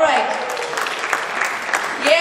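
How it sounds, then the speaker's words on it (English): A concert audience in an Abu Dhabi hotel bursts into loud, sustained cheering and applause, a dense wash of clapping and shouts that swells again at the end. "Give me a cheer"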